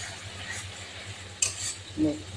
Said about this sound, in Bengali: কষানো হবে মশলাটা